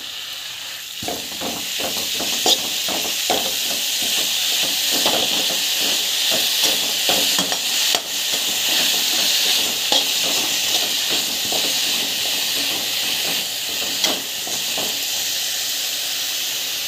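Ingredients sauté in a hot pan with a loud, continuous hiss and sizzle, dotted with faint clicks and scrapes of stirring throughout.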